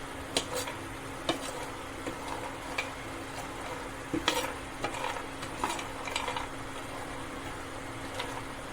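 Laddoo ingredients dry-roasting in a pan, stirred with scattered light scraping ticks and taps against the metal over a soft, faint sizzling hiss, irregular and close.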